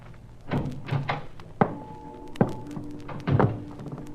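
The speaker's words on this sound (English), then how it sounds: "I edged closer, and then I banged against the steel drum, and the noise it made shattered the silence." A steel drum banged repeatedly in a radio drama, about six dull metallic thunks at uneven intervals, several leaving a brief ringing hum, loud and close in a quiet setting.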